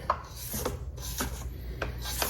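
A spatula scrapes down a KitchenAid mixer bowl with several short rubbing strokes, close and moderately loud, with no talking.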